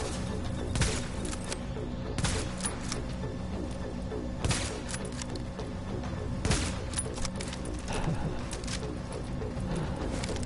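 Sniper and automatic gunfire in the video game The Division, Times Square legendary mission: repeated sharp shots and bursts crack out at irregular intervals over a steady droning background, no talking.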